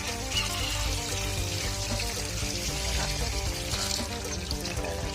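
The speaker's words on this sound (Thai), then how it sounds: "เขาก็ใส่น้ำดื่มลงไปก่อนนะครับ" Drinking water poured into a jar for pickling bamboo shoots, a steady close splashing gush that runs unbroken for several seconds with no voices over it.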